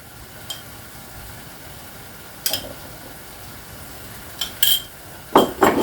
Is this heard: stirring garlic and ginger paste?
yes